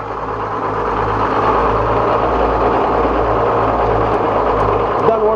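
A sawmill engine runs steadily after starting, a loud, low, even drone with a slight rhythmic throb and no talking over it.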